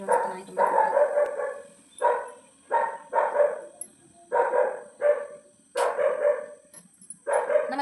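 A dog barks repeatedly in short, loud bursts, about a dozen barks in an irregular rhythm, close by with no talking.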